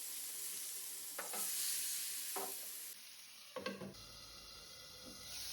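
Food frying in a covered pan over a low flame, a steady close sizzle that holds throughout, broken by a few soft clatters of a lid or utensil.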